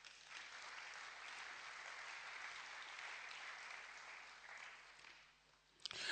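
Sustained applause from a church congregation during a sermon, broad and steady for about five seconds before thinning out and ending with a few louder claps.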